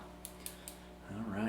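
Scissors pruning a bonsai tree give three quick, light snips in a row, close and fairly quiet, followed by a louder sustained sound that may be a voice.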